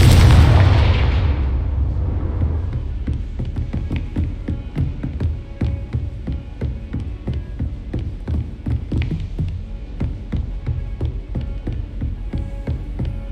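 A Confringo blast spell in Hogwarts Legacy opens with a loud booming burst that fades into a run of rapid, rhythmic crackling thuds from the game.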